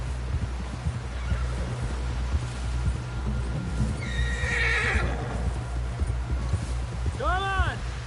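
Horse whinnying and galloping hooves in Red Dead Redemption 2, steady clip-clop rhythm throughout with a loud neigh late in the clip, under a low rumbling ambience and voices.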